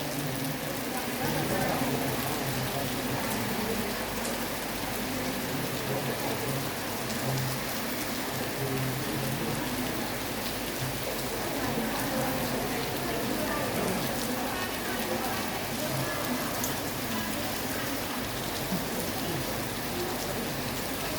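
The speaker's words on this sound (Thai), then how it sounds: "ฝนถึงได้ตกนะคะ" Steady rain falls continuously, a dense even hiss of drops that holds at the same level throughout.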